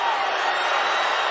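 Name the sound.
basketball arena crowd in an uproar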